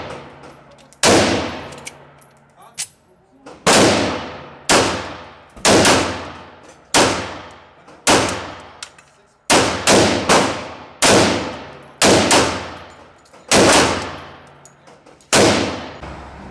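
A Remington R1 1911 pistol fires a string of sharp, loud single shots at an uneven pace, each crack followed by a short ringing decay, with about a dozen rounds in quick succession.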